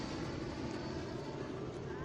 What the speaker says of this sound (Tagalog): Ayan, oh. Helicopter.